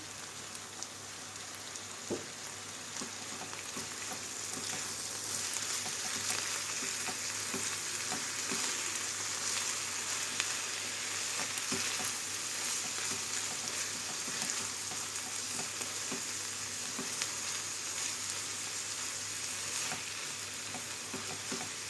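Steady, crackling sizzle of vegetables and chopped tomatoes frying in a pan, continuous and fairly close, with occasional small pops and no talking.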